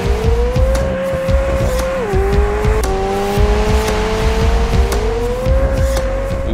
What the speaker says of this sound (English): it's about that high frequency scream as you're going up the RPM range